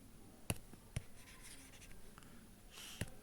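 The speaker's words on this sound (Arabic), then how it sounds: "يلا نكتب الجديد بقى" Marker or chalk strokes on a board during a geometry lesson. Three sharp taps stand apart, with soft scratchy writing between them, quiet and close.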